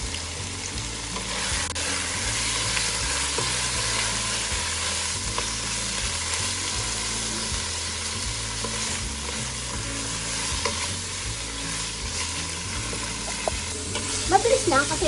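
Chopped liver with plenty of ginger sautés in a pan for Ilocano igado, a steady close sizzle with repeated stirring scrapes and a faint low background hum, no one speaking.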